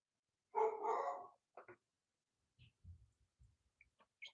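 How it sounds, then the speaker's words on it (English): A dog barks in a short run of bursts near the start, followed by several softer, low thuds and scattered faint noises in an otherwise quiet room. "Dixie, that dog."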